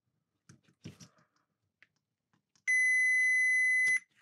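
Multimeter continuity tester checking hot-prong wiring on a homemade hanging lamp: a few soft clicks and taps, then one clear, steady electronic tone lasting over a second before cutting off.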